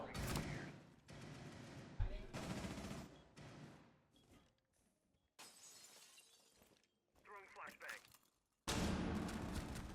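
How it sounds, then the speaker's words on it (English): Suppressive gunfire and shattering glass in a competitive Rainbow Six-style esports match, loud rapid bursts broken by quiet gaps, with a commentator talking over parts of it. "Suppressive fire on the right side"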